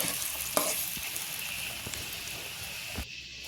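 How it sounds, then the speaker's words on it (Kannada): Onion, tomato and curry leaves sauté in hot oil for a chicken curry, giving a soft continuous sizzle with occasional spatula scrapes and stirring clicks, fairly quiet and close, with no voices. "1 ಟೊಮೆಟೊ, ಕರಿಬೇವಿನ ಎಲೆಯನ್ನು ಹಾಕಿ ಬಾಡಿಸ್ಕೊಳ್ತಾ ಇದ್ದೀನಿ."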